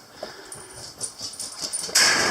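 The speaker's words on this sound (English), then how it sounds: "I got dogs wanting to go out in the rain" Dogs whimper and whine indoors while rain falls outside, eager to be let out; high, thin whining calls repeat in short bursts, close to the microphone, and grow louder toward the end.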